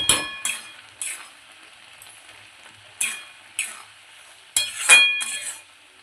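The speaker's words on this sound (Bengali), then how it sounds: "আর একটুখানি নাড়বো, নাড়লেই হয়ে যাবে।" Pineapple chutney being stirred in a pan with a utensil, giving sharp scraping and clinking strokes at irregular intervals against a quiet background, close up and with no talking.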